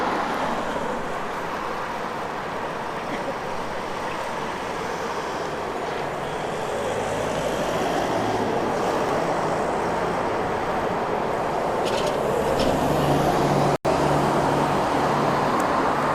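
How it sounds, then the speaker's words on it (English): Steady roadside traffic noise from passing cars in Cashel, Ireland, a continuous loud broadband rumble with vehicles swelling past close by and one sharp click near the end, no voices. "Move away from traffic, we can't hear you half the time."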